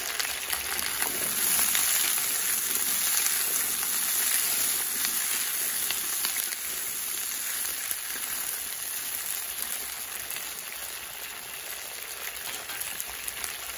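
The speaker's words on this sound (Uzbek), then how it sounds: "bir pas yağda qovurib olamiz" Vegetables for lecho fry in oil in a pan, giving a steady, dense sizzle that holds evenly throughout and eases slightly toward the end, with no voices.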